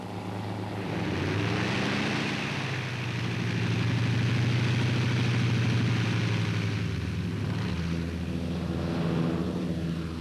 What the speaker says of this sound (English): the transports take off shortly before complete darkness